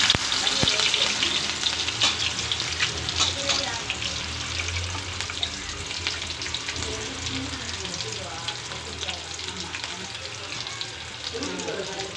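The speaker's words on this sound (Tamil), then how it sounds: "பானை வச்சு எண்ணெய் ஊற்றியாச்சு கொஞ்சமாக கடை போட்டுக்கலாம் வெங்காயம் தட்டி வச்சுருக்கோம் அதையும் சேர்த்துக்கலாம்" Crushed onions go into oil heating in a pot and fry with a steady, moderately loud sizzle that continues throughout, with light stirring and a faint voice in the background.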